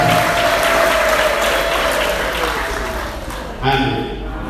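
Congregation applause fills an Anglican church service in Kacyiru, a dense continuous clapping that stays loud throughout before a brief swell near the end, with a tonal sound drifting underneath.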